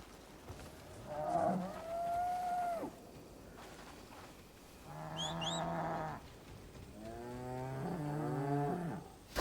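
Cattle in the video game Crimson Desert give three drawn-out moos with short gaps between them, each call clear and fairly close against a faint background.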